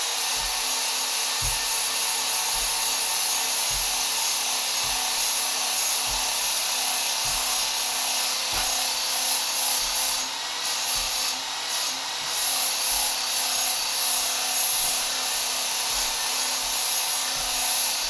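Steady, loud whine of a Work Sharp tool grinder with a belt running against an axe edge, a continuous high hiss punctuated by faint irregular low ticks, close and without any talk.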